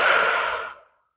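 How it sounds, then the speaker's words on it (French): A single long, close exhale of breath during a home bodyweight workout, airy and steady before tapering off into silence, with no speech. "Et respirez. Relâchez bien, 3 respirations."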